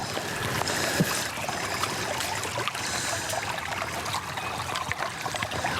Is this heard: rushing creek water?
yes